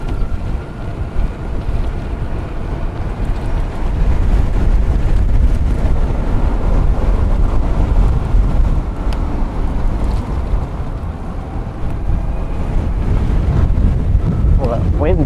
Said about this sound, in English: that wind is pretty fierce right now